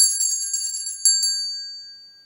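A bright notification bell chime rings as a sound effect, with a quick cluster of metallic dings and then one clear strike that rings out and fades, standing alone.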